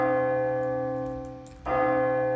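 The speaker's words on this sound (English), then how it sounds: "Like say if I'm making like a church bell style sound" A church bell sound from the Sonatina Orchestra VST plugin: a sustained, ringing bell-like tone fades slowly, then a second deep bell strike sounds and rings on with rich, lingering overtones.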